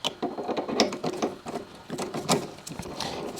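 Jaws of a Vevor 8x14 inch lathe chuck being tightened by hand, giving a close series of uneven metallic clicks and ratcheting scrapes.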